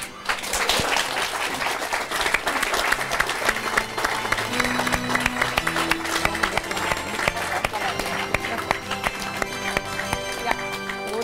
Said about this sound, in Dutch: Nou, dan wil ik een groot applaus.